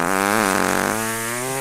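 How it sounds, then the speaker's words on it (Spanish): Recorded fart noises played back from a CD, one long, loud, buzzing blat that shifts pitch partway through and is heard alone without talk. "De pedos, unos ruidos terribles,"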